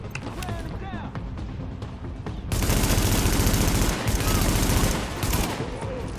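Machine gun fire rips through a multiplayer firefight in The Division, starting as scattered shots under voices and then turning into a loud, dense, sustained burst for several seconds before easing off.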